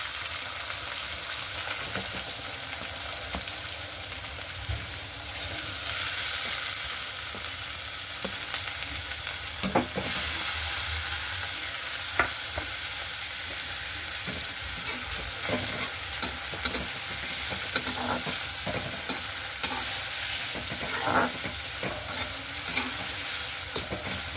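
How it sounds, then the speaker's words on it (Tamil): Chopped onions fry in oil with curry leaves for Tamil-style pea kurma, giving a steady, close sizzle with scattered stirring clicks and scrapes across a long stretch, and no talking. "கருவேப்பிலை போட்ட பிறகு வெட்டி வச்சிருக்க வெங்காயம், பொடிசா வெட்டின வெங்காயம் போடுறேன்"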